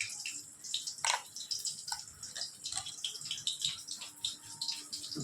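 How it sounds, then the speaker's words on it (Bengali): Water poured onto chili powder and stirred in a kitchen while making a sorputi fish curry, soft close dribbling and light clinking splashes in small irregular bursts. "একটু জল দিয়ে গুলে নেব।"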